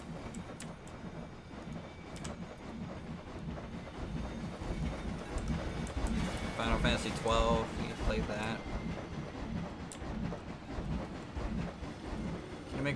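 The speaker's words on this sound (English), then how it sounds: "Really, the trains for me are more noisy than the flat ride." Trains in the Planet Coaster theme park game give a continuous rumbling rail clatter with rhythmic clicking. A person talks over the steady mechanical noise the whole time.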